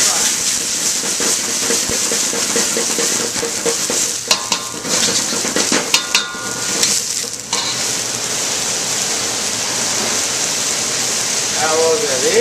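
Garlic and ginger stir-fried in palm fruit oil in a pan, a steady close sizzle with scraping stir strokes and brief clinks of utensil against the pan, continuing throughout.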